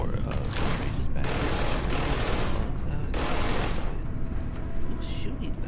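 Gunfire in the video game Starfield, heard as continuous, dense rapid-fire bursts that stay loud and steady throughout, with a voice speaking over the shooting.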